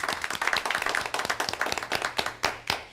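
A small group at a town conservation commission meeting claps for a departing member, with distinct individual claps in a quick, uneven patter that is close and moderately loud for about three seconds.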